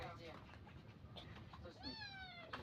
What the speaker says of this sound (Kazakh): Бұл біздің мысық.